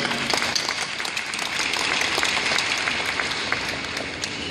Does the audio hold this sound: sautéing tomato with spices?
no